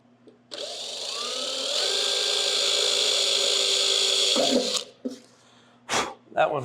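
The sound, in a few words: drilling a pilot hole with a 1/16 drill bit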